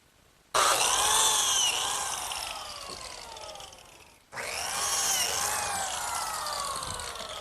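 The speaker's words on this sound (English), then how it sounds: "the first thing I'm going to do is cut the slots in the ends of the runners" A biscuit joiner cutting slots in the ends of wooden runners for a kitchen worktable, with two high-pitched motor whines, each starting abruptly, and the first slowly winding down before the second cut begins, close and loud.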